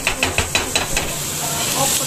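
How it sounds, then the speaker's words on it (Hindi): Chopped bell peppers sizzling in a pan for white sauce pasta, a steady loud frying hiss with a few rhythmic stirring scrapes early on, close up and continuous. "फ्राई होने देते हैं शिमला मिर्च वाली."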